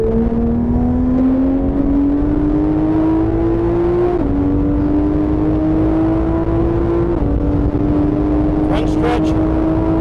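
A race car laps the PittRace track, its engine a loud, close, continuous drone that climbs steadily in pitch through the gears with two brief shift dips, heard alone without talk.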